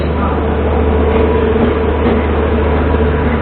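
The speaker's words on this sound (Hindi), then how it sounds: "तो दिखाते हैं आपको सीधा जन शताब्दी एक्सप्रेस का अराइवल।" Jan Shatabdi Express between Dehradun and New Delhi, hauled by a WAP7 electric locomotive, rolls into a station platform with a steady, loud, continuous low rumble and rail noise close by throughout.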